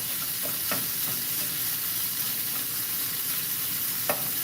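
A spatula breaks up a vegan tofu scramble in a frying pan, with constant close sizzling and a few soft scrapes and taps against the pan.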